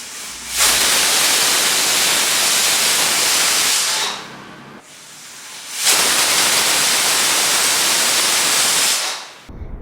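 A pressure cooker boiling lentils (dal) lets out two long, loud hissing whistles of steam, each lasting about three to four seconds and separated by a brief quieter gap, with no voices.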